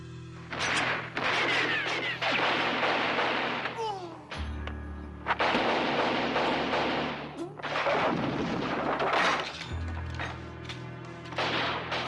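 Gunfire from a stylized shootout in John Woo's 1989 action film The Killer, dense bursts of shots and booms in long loud stretches broken by brief pauses.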